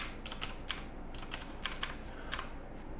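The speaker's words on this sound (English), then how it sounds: "let's type 5 digits of just any number" Numbers typed on a computer keyboard while setting up a spreadsheet: about a dozen crisp, close key clicks in quick uneven bursts over a quiet background, with no voices.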